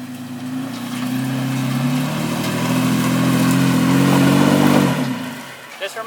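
Lifted third-generation Toyota Tacoma engine revving in four-high, a loud, close, rising drone that holds and builds before dropping away, with a person talking briefly at the end.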